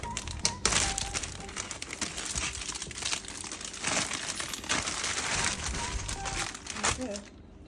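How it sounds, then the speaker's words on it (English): A plastic zipper bag crinkles and rustles as sweet potato pudding is packed into it, a close, continuous crackling with sharper bursts, with some talk mixed in. "now put this in a plastic zipper to travel with"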